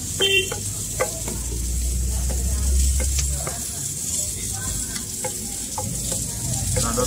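A chicken egg dosa sizzles and fries on a hot griddle at a street food stall. Close spatula scrapes and clinks cut through the steady hiss, along with a low rumbling hum.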